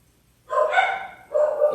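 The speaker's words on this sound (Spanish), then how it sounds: "Y perdóname a los perros que están ahí." Dogs barking outdoors in two short bursts, a loud cluster of yelping barks followed after a pause by another, with no talking over them.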